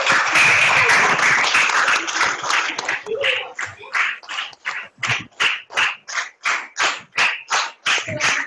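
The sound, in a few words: audience applause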